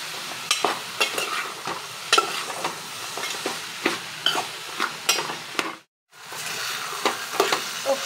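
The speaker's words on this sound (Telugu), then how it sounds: "కలిసేటట్టు కలపాలి." Ridge gourd curry being stirred with oil and turmeric in a pan, a steady soft sizzle under repeated close scraping strokes of a spoon, with one brief pause.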